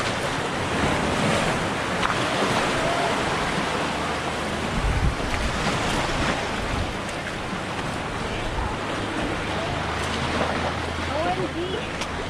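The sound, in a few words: sea waves at high tide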